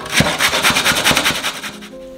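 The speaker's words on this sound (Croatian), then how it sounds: "Šargarepe ćemo da narendamo na ovo sitnije rende." Carrots rubbed across a fine metal grater make fast, even rasping strokes about five times a second. The sound is close and loud, continues without a break for about two seconds, then stops.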